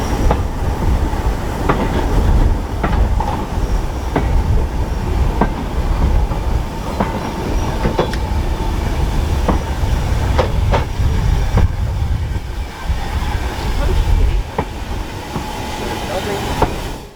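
A heritage train runs past on the North Norfolk Railway with a loud, steady rumble. Wheel clicks mark the rail joints at regular intervals throughout.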